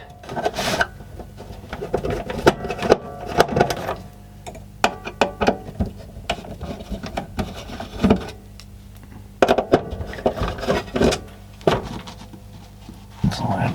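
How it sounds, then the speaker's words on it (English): Small screws being backed out of a 1985 National RX-CW50 boombox to free its circuit board, heard as close, irregular clicks, scrapes and metallic rattles from the screwdriver and casing, with no talk over them. "Take those 4 screws out and hopefully this circuit board's coming up with it."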